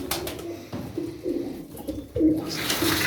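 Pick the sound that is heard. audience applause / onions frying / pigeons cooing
pigeons cooing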